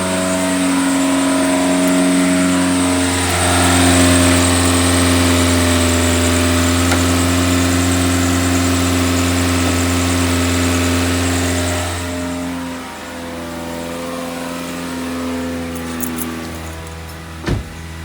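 A Toyota Corolla, tenth-generation E120, idles right after starting with a jump box attached, its steady engine hum holding near and loud for most of the span, then dipping and slightly unsettled toward the end.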